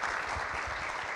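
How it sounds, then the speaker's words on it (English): An audience claps for a panel at the close of a policy event on Bank Secrecy Act reform. A brief, dense burst of applause fills the room with no voices over it. "So I would please ask you to join me in giving our panel a round of applause"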